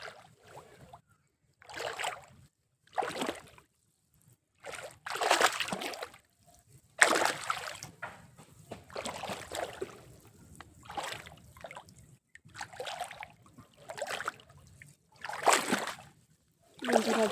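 Someone wades through water on foot, and each step makes a loud, close sloshing splash in an uneven rhythm with short quiet gaps between strides.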